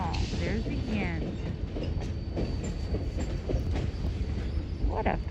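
Train cars roll past on tracks at a train station, a loud continuous rumble with rhythmic clicks and occasional wheel squeals, while a voice talks faintly over the passing cars.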